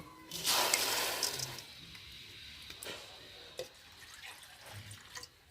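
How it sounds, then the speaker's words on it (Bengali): Water pours onto washed mung dal in a pot for boiling: a loud, close splashing gush lasting over a second, then fading into softer trickles and a few drips. "দিয়ে দেব জল।"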